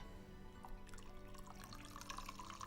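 Tea trickles and drips as it is poured from a height, a light, close splashing that grows busier and brighter toward the end, with no talking.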